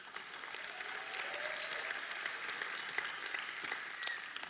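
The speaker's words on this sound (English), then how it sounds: "gratuitous hand clap for the pastor" Congregation applause for the pastor at a church service, a steady wash of many hands clapping at moderate distance, continuous and even for several seconds.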